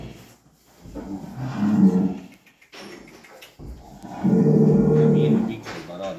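A bull lows twice in a stable, each call long, deep and loud, with a short pause between them; people talk in the background.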